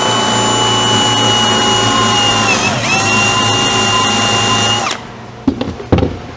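A power drill whirs loudly and steadily, dips briefly under load, then spins down and stops, followed by a couple of knocks.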